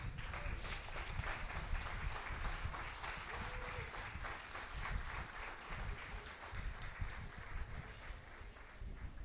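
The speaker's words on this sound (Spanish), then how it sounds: "Dale un aplauso al Señor." A church congregation at a Sunday service applauds, a steady dense clatter of many hands clapping throughout, with voices faintly mixed in.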